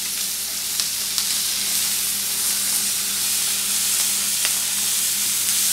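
Octopus sizzles and fries in a pan as it starts to brown, a steady close hiss with tiny pops scattered through it and no talking.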